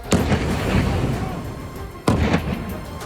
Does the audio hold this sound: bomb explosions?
yes